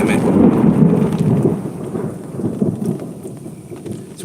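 Thunder rumbles loudly and continuously through a lightning storm, a deep rolling roar over steady rain, with no voices heard.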